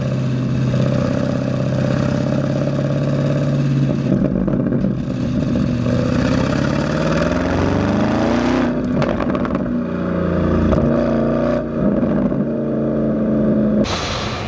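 A Porsche Cayenne Turbo GT engine drones steadily while driving on a peninsula road near a golf course, its pitch rising as it accelerates, with brief bursts of rushing noise.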